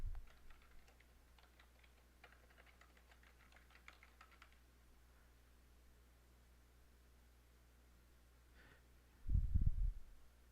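Fast, light tapping on a computer keyboard comes in quick bursts during the first few seconds, then fades into a quiet room hum, followed by a short thump near the end.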